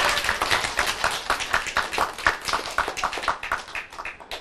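An audience claps at a Korean folk-tale storytelling session, a loud, ragged burst of hand claps with uneven rhythm that carries through the whole stretch.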